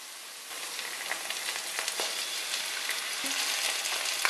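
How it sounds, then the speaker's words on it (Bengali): Spices fry in hot oil with garlic paste for Bangladeshi-style shahi chicken polao, a close, dense sizzle that swells after a quieter start, with faint stirring clicks and no talk. "হালকা ভাজার পর আমি দেড় চা চামচ রসুন বাটা দিচ্ছি"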